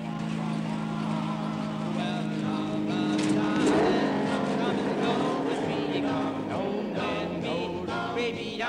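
A 1979 hot rod's engine drones steadily throughout as the car drives, a continuous rumbling hum with faint rattles, while people talk over it.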